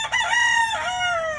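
A rooster crows once in a single loud, close call about one and a half seconds long, with a rising start and a long sustained middle before it trails off at the end.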